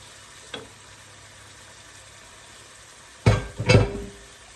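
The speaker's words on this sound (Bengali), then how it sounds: "মশলাটা কষে গেছে এখন আমি চিংড়ি মাছগুলো দিয়ে দিচ্ছি" Prawns tipped into a cooked-down spice paste in a hot pan: quiet at first, then two sharp, close sizzling bursts that flare and settle within about a second.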